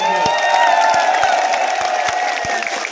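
A large outdoor political rally crowd in Chandpur, Nagina, cheers and whoops loudly and continuously, with a dense wall of voices and scattered sharp claps running through the whole stretch.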